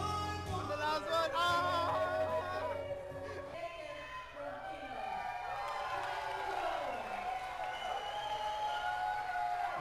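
A raucous crowd of about 500 at a karaoke contest, cheering, whooping and clapping loudly at first, then a dense murmur of voices over music-like tones.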